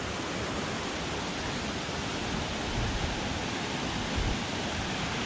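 Rushing stream water by a bridge in woods on a long-distance hike, running unusually high, a steady dense roar close by with no voices.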